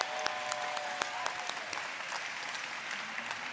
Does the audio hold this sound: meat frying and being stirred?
no